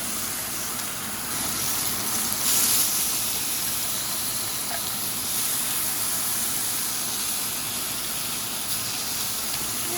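Filet mignon searing in a cast iron skillet gives a steady, loud broadband hiss and sizzle that runs unbroken for the whole stretch, with no voices over it.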